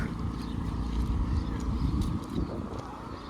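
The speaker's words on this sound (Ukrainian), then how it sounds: "Тут якийсь маленький генератор." A small electricity generator runs outdoors in Kyiv's Obolon district during an evening power outage, a steady low engine drone droning beneath a person talking close by.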